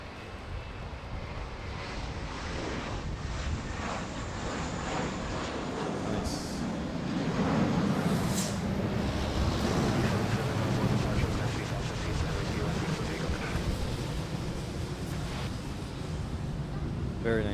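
A plane taking off from a runway at Manila Airport, a broad, steady engine roar that swells louder midway and stays strong to the end, with faint voices in the background.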